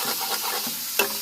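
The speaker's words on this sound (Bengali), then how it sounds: "ভালো করে নাড়তে হবে।" A ginger and dried chili spice paste is stirred in a hot pan for a Bengali eggplant dish, a brief close sizzle with scraping strokes and a sharper clack at the end.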